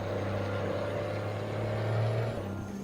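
Engine of a Mack MH 600 truck in American Truck Simulator, fitted with an old M11 engine sound, a steady low droning hum with a faint whine above it, holding even and fairly loud throughout without speech.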